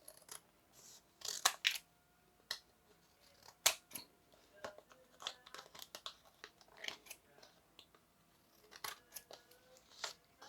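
Scissors snip through a paper flower piece for a pop-up card in a series of short, crisp cuts at irregular intervals, close and fairly quiet, with faint rustling of paper between them.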